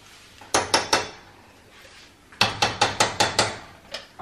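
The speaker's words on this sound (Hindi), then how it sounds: "इसको हिलाते रहना है, रुकना नहीं है" A spoon stirs flour and besan roasting in ghee in a pan, producing two quick bursts of sharp metallic taps, a cluster of three then a rapid run of about seven, close and crisp without talk.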